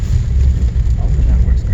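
A 2017 Alfa Romeo Giulia Ti Q4 launches hard in snow, its engine a loud, steady low roar that runs unbroken and close, mixed with rushing wind noise.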